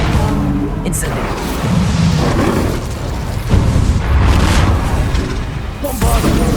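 A fire spell cast in Hogwarts Legacy, loud booming bursts and crackling blasts that roll in waves, mixed with dense in-game noise and voices.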